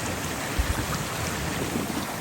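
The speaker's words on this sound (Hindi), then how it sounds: "देखें इतनी तेज हवाएं चल रही हैं" Strong storm wind buffets the microphone beside the Indus River in northern Pakistan, a loud continuous roar with low rumbling gusts and no voices.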